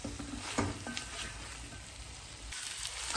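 Chicken fry sizzles steadily in a pan as it is stirred with chopped coriander leaves, a few scraping stir strokes rising over the continuous close frying hiss.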